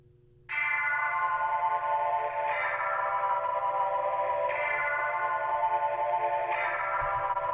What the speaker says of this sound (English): I added a very powerful spring reverb